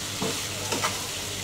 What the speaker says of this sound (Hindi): अब 5 मिनट तक इसको मीडियम फ्लेम पे पकाएंगे, फ्राई करेंगे जब तक कि हमारी मिर्ची फ्राई नहीं हो जाती।